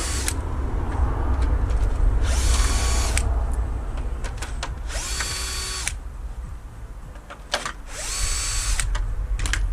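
A power tool whirs in three short bursts while removing fairing fasteners from a 2020 Yamaha MT125 motorcycle, with clicks and handling noises between bursts in a workshop.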